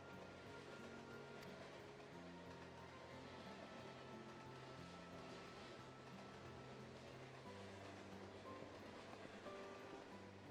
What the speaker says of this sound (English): the train sound is part of the stream.